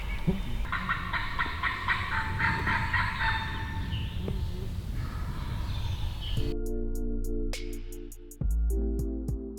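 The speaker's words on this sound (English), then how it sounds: "We think 2 gobblers, right? 2 of them were coming in." Wild turkey gobblers call from cover during a hunt, several rattling gobbles in sequence, then a loud close burst of bird calling or a caller with sharp clicks near the end.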